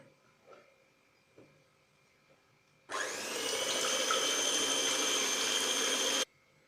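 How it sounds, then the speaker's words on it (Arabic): An electric mixer whisks eggs with vanilla for chocolate walnut brownies, starting abruptly after faint knocks and running steadily loud for about three seconds before cutting off. "هلأ بدنا نخفق البيض مع شوية فانيلا."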